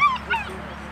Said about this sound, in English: And we hear some dogs.